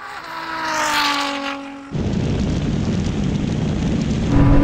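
Ferrari SF90 and Nissan GT-R launching side by side in a half-mile drag race, a rising engine whine giving way to a loud, sustained roar of acceleration that swells again near the end.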